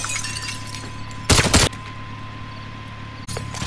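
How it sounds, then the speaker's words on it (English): Burst of machine gun fire in Call of Duty: Modern Warfare, one loud dense volley lasting under half a second over a steady low game hum, with a second shorter burst near the end. "Machine gun."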